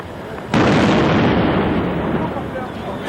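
An explosive charge detonates beside a bomb disposal robot, a sudden loud blast that hits hard and then rumbles on for several seconds as a dense, roaring wash of noise.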